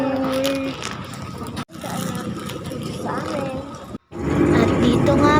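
A steady, loud drone of a noisy motor tricycle ride, with rattling and road rumble throughout, briefly cut twice, and talk mixed in under the engine noise.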